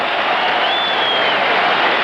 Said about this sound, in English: the crowd here at the MGM Grand appreciating the efforts of both Christy Martin and Deirdre Gogarty